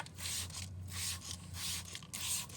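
McKee's 37 Tire and Rubber Rejuvenator sprayed liberally onto rubber in several hissing bursts, close and steady, over a low background hum, with no talking.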